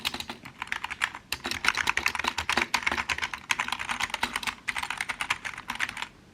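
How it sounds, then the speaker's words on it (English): Rapid, continuous keystrokes clatter on an LVLUP Pro Gaming keyboard with LED-lit keys, close-miked and alone, with brief pauses between bursts of typing. "that's the sound test for the Lvlup Pro Gaming keyboard with LED lights"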